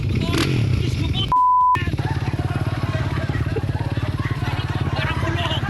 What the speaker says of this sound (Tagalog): Sasakyan ko itong natatakutan nilang motor